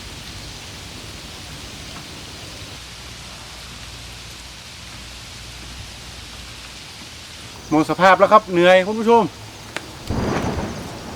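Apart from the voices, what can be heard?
rain falling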